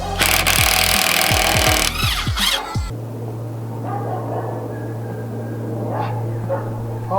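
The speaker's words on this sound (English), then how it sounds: "Shouldn't really be using an impact gun with that, but I'll give it a bash first" A loud pneumatic impact gun rattles in hard bursts against a car wheel's lug nuts during an ABS sensor change on a Honda Civic, then cuts out, leaving a steady low compressor-like hum.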